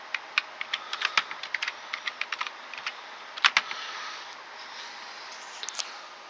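Password keystrokes on a computer keyboard while logging in to an Ubuntu LTS server built into a VCR-case PC: a quick run of crisp, close clicks, a short pause, then a few final taps.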